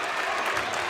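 High school boys basketball crowd on its feet applauding and cheering at the final buzzer, a dense close wash of clapping and voices.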